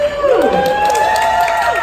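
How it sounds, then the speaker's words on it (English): Audience at a design competition finals cheering and whooping, several voices rising and sliding in pitch against steady crowd noise, loud and close throughout. "Here's some cheering."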